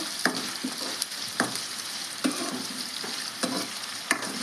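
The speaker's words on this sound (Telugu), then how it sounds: "ఇవి కొంచెం దూరం వేయించుకుందామండి ఒక రెండు నిమిషాలు" Drumsticks frying in a salted masala curry pan give a steady close sizzle, broken by a metal spoon clanking against the pan roughly every second as they are stirred.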